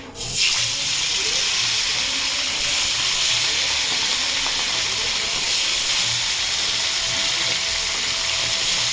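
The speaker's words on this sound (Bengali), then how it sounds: "তেলটা গরম হলে মাছটা এক এক করে ভেজে নেব" Bhola fish frying in hot oil in a kadai gives a steady, loud hiss and crackle that runs unbroken from start to finish, with no voices over it.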